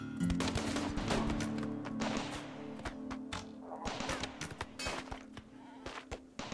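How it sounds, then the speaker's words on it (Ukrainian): Rapid bursts of gunfire and crashing impacts crackle in quick succession over a steady low hum, fairly faint and busy, from combat in RimWorld. "Стріляють там щось, ламають."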